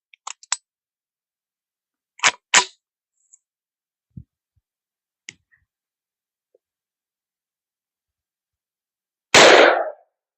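A Buffalo Bore .45 ACP +P 255-grain hardcast round is fired from a 10-inch braced pistol. Several small handling clicks come first, then a single loud, close shot near the end.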